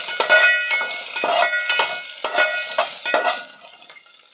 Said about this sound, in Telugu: ఇప్పుడు ఒక గట్ట తీసుకొని ఇలా కలుపుతూ ఫ్రై చేసుకోవాలి.